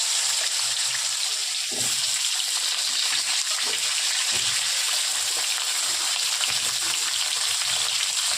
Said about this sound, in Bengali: আলুটা আগে একটু নুন আর হলুদ দিয়ে ভেজে নেব,